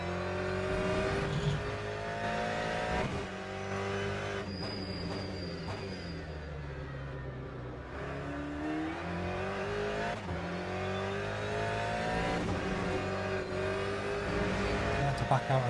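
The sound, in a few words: race car engine in Le Mans Ultimate video game, LMGTE at Portimao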